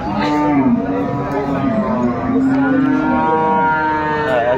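A cow moos at a rural cattle market where cows with calves are sold, long drawn-out lowing calls sounding loud and close, with faint voices around.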